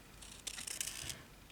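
A large pair of scissors slices through paper during junk-journal crafting, a faint close burst of crisp snipping and rustling that lasts under a second within quiet room tone.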